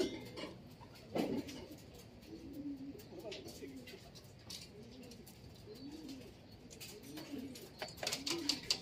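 Racing pigeons coo softly in repeated low rounded calls at a pooling event, with scattered clinks and handling noises and faint voices around them.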